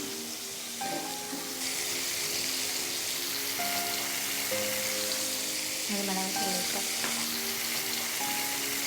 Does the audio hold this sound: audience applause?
no